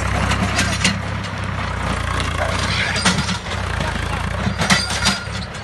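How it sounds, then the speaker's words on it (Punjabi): A tractor engine runs during a village wild boar hunt, a steady low rumble that lasts throughout beneath loud shouting voices and scattered bangs. "ਪਰ ਟਰੈਕਟਰ ਨਹੀਂ ਚੜ੍ਹਨਾ।"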